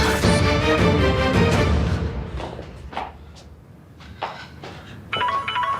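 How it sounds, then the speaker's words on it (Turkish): A telephone rings in a room, with repeated bright bell-like bursts over a loud opening passage of other sound, followed by quieter thumps and a fresh ringing burst near the end. "Telefon çalıyor."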